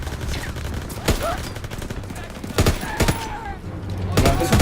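Gunfire in the World War II shooter game Call of Duty WWII: several sharp shots at uneven intervals over a steady background of battle ambience, with no speech.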